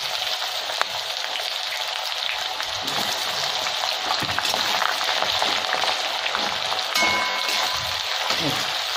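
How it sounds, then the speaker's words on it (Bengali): Onions fry in hot oil with cinnamon in a pan for Kashmiri style chicken, giving a steady, dense sizzling hiss throughout with a few faint clicks of stirring, close and even, without speech. "পেঁয়াজগুলো এবার লাল লাল করে ভেজে নেব।"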